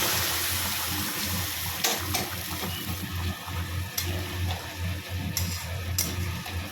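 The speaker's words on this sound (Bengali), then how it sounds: "এখন দিয়ে দিচ্ছি গরম জল।" Hot water poured into a hilsa fish curry with potato and eggplant, a steady splashing gush close by, broken by a few sharp clinks.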